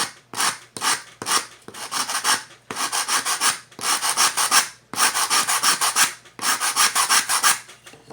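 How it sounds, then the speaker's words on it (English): Sandpaper glued onto a stick rubs back and forth over dry wood of a handmade Native American style flute, giving steady rhythmic rasping strokes in close bursts with short pauses between sets. "I find when it's dry, it's easiest to just work with some sandpaper on a stick that's glued on."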